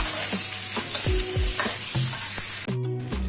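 Capsicum being stir-fried with chilli chicken in a pan, a loud continuous sizzle punctuated by repeated scraping and knocking strokes of a spatula in a brisk, uneven rhythm, close up with no talking.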